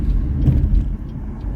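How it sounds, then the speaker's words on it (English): Trucks rumbling past on a nearby road, a loud low-pitched engine and tire drone swelling and easing as they go by. "these damn trucks getting on my nerves today"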